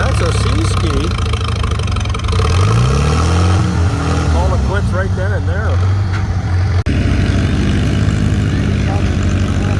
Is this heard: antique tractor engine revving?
yes